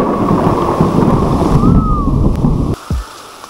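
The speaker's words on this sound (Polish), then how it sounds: "Tam to jest ściana deszczu. Coraz bardziej pada jeszcze." Heavy rain roars in a dense, steady wash during a thunderstorm at a sand quarry, loud and close with wind buffeting the microphone, then briefly drops away near the end.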